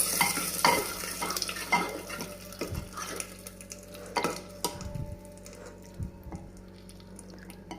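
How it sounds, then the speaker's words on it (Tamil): Mashed dal being stirred into a hot tempering for Andhra tomato dal, with scraping spoon strokes and a light sizzle in a steady, close-up rhythm, no talking. "கடைஞ்ச பருப்பு கூட சேர்த்துக்கிடுங்க. சேர்த்துட்டு நல்லா கலந்துக்கிடுங்க."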